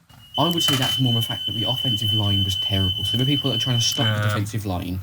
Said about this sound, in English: just ignore that if you heard my fire alarm going off